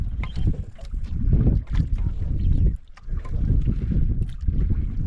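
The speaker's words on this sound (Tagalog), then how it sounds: "Hangin eh." Wind blowing at sea around a small fishing boat, with strong gusty rumbling and buffeting against the microphone that swells and eases over several seconds, with no voices.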